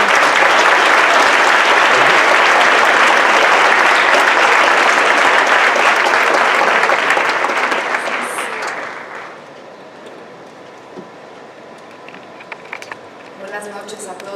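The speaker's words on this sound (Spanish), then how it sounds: "nieta del sobreviviente Peter Katz, a quien le recibimos con un caluroso aplauso." A hall audience gives warm applause to welcome a speaker at a Holocaust survivor remembrance, loud dense clapping for several seconds that fades away, followed by quiet room noise and a few scattered sounds.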